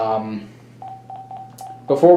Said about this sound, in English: We'll give my phone one last phone call, calling with my AT&T cordless phone, and it'll ring.